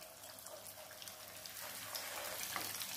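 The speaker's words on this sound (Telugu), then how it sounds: "స్టవ్ ని మీడియం ఫ్లేమ్ లో పెట్టుకొని ఎగ్ బోండాల్ని డీప్ ఫ్రై చేసుకోవాలి" Chicken egg bondas deep fry in oil over a medium flame, a quiet, steady bubbling sizzle with faint crackles that swells slightly toward the end, heard up close with no one talking.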